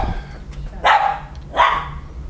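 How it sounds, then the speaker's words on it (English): Two sharp, loud dog barks close by, spaced less than a second apart, over quiet outdoor background hum in a Florida neighborhood. "They all have animals, dogs that make a lot of noise."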